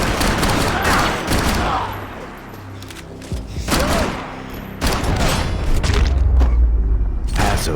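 Video game gunfire from Max Payne 3, bursts of shots and booming impacts coming in waves over a busy action-game soundscape with low rumbles, loud throughout.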